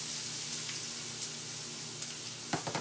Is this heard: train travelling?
no